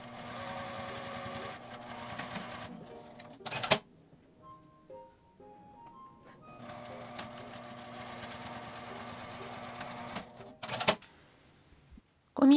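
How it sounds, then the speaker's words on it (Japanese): A sewing machine stitches a 1 cm seam in folded scrap fabric for a coin purse. It whirs loudly and steadily in two long bursts with a quiet pause between them, and a few clicks and handling noises follow. "アイロン線を反対側に折って1センチの縫い代で縫います。"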